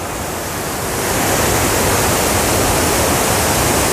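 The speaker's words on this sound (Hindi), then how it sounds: "सायधारा वाटरफॉल कितना सुंदर सा नज़ारा दोस्तों देखिए, और कितना साउंड देखिए दोस्तों" Saidhara waterfall at Jharigaon, Umerkote in Nabarangapur, Odisha, a broad steady roar of rushing water that swells louder after the first second and then holds constant, with no voices.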